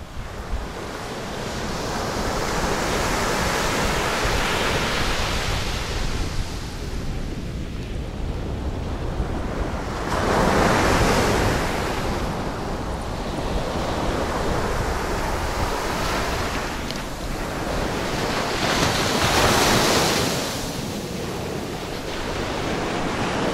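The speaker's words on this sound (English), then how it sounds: "look behind me, this gorgeous, beautiful beach is in Volta region" Ocean surf breaks on a beach in Ghana's Volta region, a continuous loud wash with waves swelling in slow surges, heavy wind buffeting the microphone throughout.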